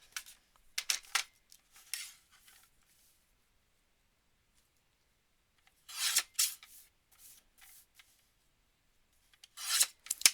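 Short scraping cuts trim a thin sliver from each side of a handmade craft background, coming in a few brief close bursts separated by quiet gaps.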